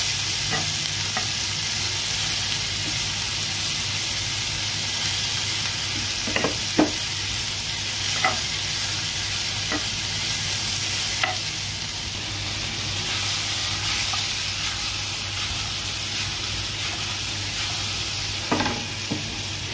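Tilapia sizzles in a pan while being stirred, with a steady close frying hiss and occasional scrape-and-clink stirring strokes spaced through the whole stretch.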